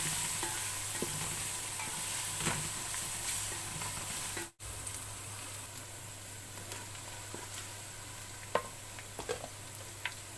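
Browned onion and garlic paste fries in a pan for a mutton cream korma, a steady broadband sizzle with occasional stirring scrapes, briefly cut by a momentary dropout midway.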